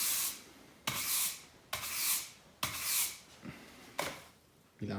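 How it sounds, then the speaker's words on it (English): Body filler on a car bonnet scoop for a V8 Mazda RX7 FC is rubbed down by hand in about six strong sanding strokes, each a harsh rasping swish with short pauses between, close and clear with no talking. "Just need to give it a quick rub now"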